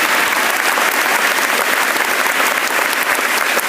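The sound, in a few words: applause for the teachers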